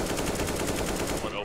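Rapid automatic gunfire in the CS:GO video game rattles as one loud, continuous burst of closely spaced shots that cuts off at the end.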